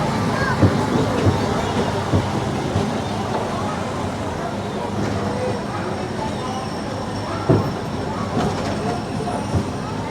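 Disneyland Railroad train at Disneyland Resort running steadily, a continuous rumble with periodic clacks and light rattles throughout, under faint background voices.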